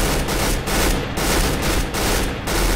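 Loud, close bursts of rifle fire in the shooting game CS:GO, short repeated volleys in a steady rhythm filling the whole moment with little else audible.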